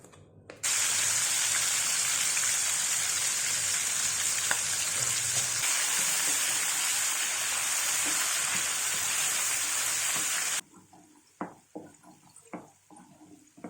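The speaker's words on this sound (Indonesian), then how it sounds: "Sekarang tomatnya dulu kita masak," Chopped tomatoes fry in a hot pan for an Indonesian fish rica-rica dish, giving a loud, continuous sizzle and spatter for about ten seconds before it cuts to quieter kitchen clatter.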